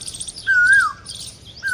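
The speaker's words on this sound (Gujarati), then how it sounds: "જો કોયલ બોલે પછી" An Asian koel gives two clear, whistled calls, the first rising and wavering before it drops away and the second starting near the end, over faint background hiss.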